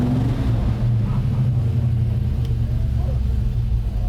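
A restored 1967 Shelby GT500 barn find's engine rumbles loud and close in a steady, deep, unbroken drone, with no distinct start-up crank.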